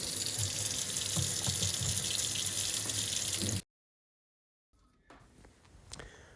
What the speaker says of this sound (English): I'll just go ahead and rinse the flat bacon off